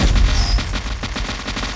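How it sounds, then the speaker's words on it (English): Rapid bursts of enemy gunfire in a video game, a hermit foe firing a triple arc of bullets, loud and dense in quick succession with no talk. "that hermit shot a triple arc bullet"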